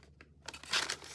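A paper bag is handled and crinkled, a few short papery rustles that build into a louder crackling burst near the end, close by with no talking.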